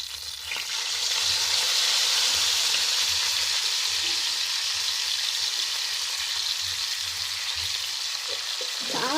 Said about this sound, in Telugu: అందుకోసం ఫ్రై చేశాను ఈరోజు